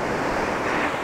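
Ocean waves break on a beach shoreline in a steady, rushing wash of surf mixed with wind, moderately loud and unbroken, with no one speaking.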